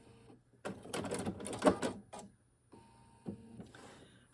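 A sewing machine stitching a centered zipper whirs in one short run, then gives a brief second burst as it reverses a few stitches, quiet and close.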